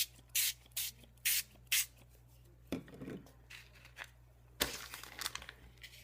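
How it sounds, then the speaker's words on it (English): An aerosol can of E6000 adhesive sprays in four short, even hisses close by, followed by handling and crinkling noises and a longer final burst of spray, with no voices. "shake up your E6000, spray it."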